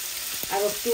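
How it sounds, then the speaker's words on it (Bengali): Tilapia fries in hot oil with spices, giving a short, close, steady sizzle with a few brief tonal sounds over it. "মশলাগুলা ভাজা ভাজা হয়ে গেছে। এখন আমি মাছ দিয়ে"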